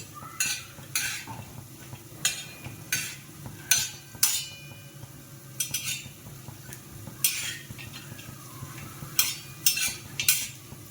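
Grated dry coconut roasts in a pan over a low flame while a spatula stirs it in repeated short scraping strokes, about a dozen irregular bursts over a faint, continuous low sizzle, with no voices.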